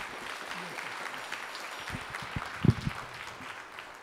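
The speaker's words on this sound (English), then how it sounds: "We give them one more round of applause." Audience clapping for high school band students at a spring band concert, a steady wash of applause with a few sharper near claps and knocks standing out, no talking over it.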